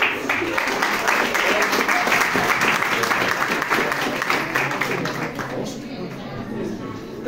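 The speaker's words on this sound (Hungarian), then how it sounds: "nagy tapsot igazgató úrnak" Audience applause fills a school music evening, a dense steady roar of many hands clapping close and loud throughout, tapering slightly near the end.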